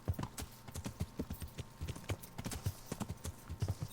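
Horse hooves clip-clop steadily in a medieval role-playing game, Kingdom Come, a rapid uneven run of close, crisp hoofbeats on firm ground with faint background hum.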